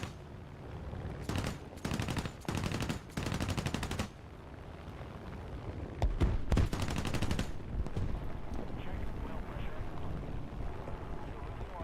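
An aircraft's machine guns in War Thunder fire in several rapid bursts in the first half, with a longer burst around the middle, close and loud over engine drone and someone talking.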